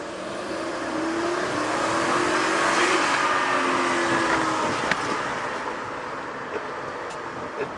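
A twin turbo Lincoln LS pulls away from a stop in first gear, its engine note rising steadily over several seconds, heard from inside the car with road and wind noise.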